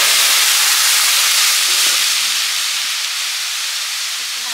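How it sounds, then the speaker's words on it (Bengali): Lentil dal poured into hot tempering oil with panch phoron, bay leaf and green chili sizzles loudly as a broad, steady hiss that fades slightly as it settles. "এবার ডালটা ঢেলে দেবো"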